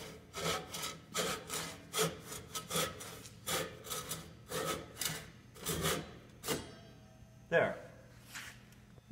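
A hand saw cuts wood in the kerf while fitting boat chines, a series of about a dozen rasping back-and-forth strokes in an uneven rhythm, close by and fairly quiet, with a pause near the end.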